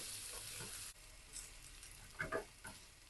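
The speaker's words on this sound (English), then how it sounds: "Put in all your garlic, shallot, and the ginger. Now fry until you can smell the fragrance from the item." Garlic, shallot and ginger fry over a low flame in a pan, a faint steady sizzle with a few soft scraping stirs near the end.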